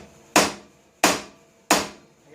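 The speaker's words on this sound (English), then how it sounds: "I got a bigger hammer too." Hammer blows on a rear PTO part being rebuilt on a John Deere 140 H1 garden tractor: three sharp, loud metallic strikes at a steady pace, each with a short decaying ring, no talking.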